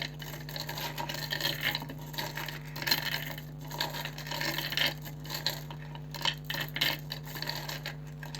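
Rune stones are shuffled and clicked together by hand during a rune reading, producing scattered small clattering knocks and rubbing sounds over a steady low hum, close and fairly quiet.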